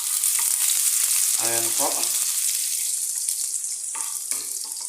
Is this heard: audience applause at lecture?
no